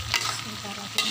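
Oyster mushrooms and tempeh cooking in a pan on the stove give a steady low bubbling sizzle, with two short stirring scrapes near the start and end.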